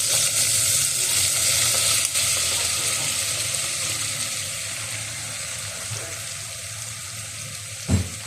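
Okra sizzles and fries in a pan at home, a steady broadband hiss that runs throughout without talk, with a faint clack near the end.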